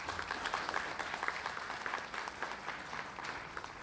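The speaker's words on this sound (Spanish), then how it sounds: "pido un fuerte aplauso, por favor, para ella." Audience applause at a municipal event led by a deputy mayor, a fairly faint, distant patter of clapping from a crowd, steady and continuous with slight swells.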